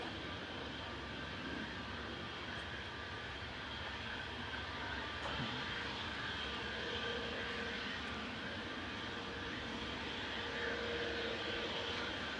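Ryanair Boeing 737-800, a 14-year-old jet arriving from Marrakesh at Manchester Airport, gives a steady, fairly faint engine rumble and broadband roar that holds evenly throughout with no voices.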